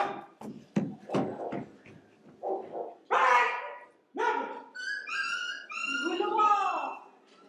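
A dog barks a few times in a Hindi stage play, short yips and barks mixed with whimpering tones, heard near and fairly loud while actors' voices speak around it.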